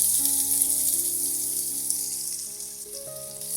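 Two medium chopped onions dropped into hot oil with cumin for aloo gobhi matar, giving a loud continuous sizzle and hiss that slowly fades over a few seconds, with no voices.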